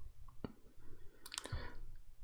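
A few sharp clicks from a computer mouse on a Windows PC, including a single click early on and a tighter cluster a moment later, close and fairly quiet over a low background hum.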